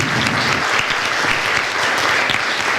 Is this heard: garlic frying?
no